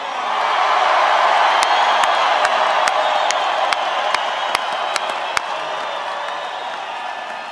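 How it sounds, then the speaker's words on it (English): A large crowd at a political rally applauds and cheers continuously, a dense steady roar of clapping with scattered sharp whistles and whoops rising above it. "Give them another round of applause."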